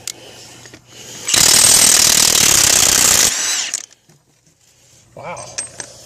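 A Milwaukee 2767-20 high-torque impact wrench hammers loudly in reverse on old, long-seized axle nuts, one sustained burst of about two seconds that cuts off abruptly, followed by quieter clinks and handling noise.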